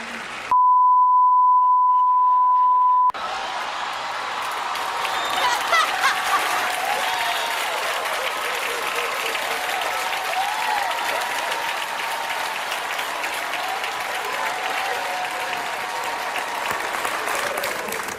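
A long, sustained round of applause from a Tony Awards theatre audience, heard as a dense steady roar of clapping with scattered cheers, preceded by a brief censor bleep tone.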